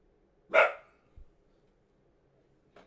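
A single sharp dog bark rings out indoors, followed by a faint thump and a softer short yip at the end, against a quiet background.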